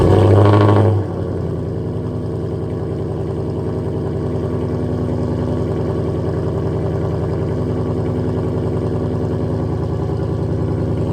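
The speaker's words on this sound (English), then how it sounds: "We'll get this thing started and see what it sounds like." A 2017 Ford Mustang GT 5.0 V8 with a full aftermarket exhaust cranks and fires up loudly, then settles into a steady, deep, rumbling idle that continues without pause.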